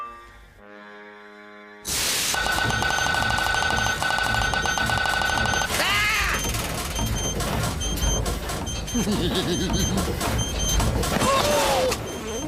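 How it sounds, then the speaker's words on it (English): A cartoon machine left switched on and running, a loud continuous mechanical whirring with repetitive clattering and alarm-like tones kicking in abruptly after a short quiet start, with voices and squeaky cartoon sounds over it. "Don't leave that machine switched on when there's nobody on it, Blob!"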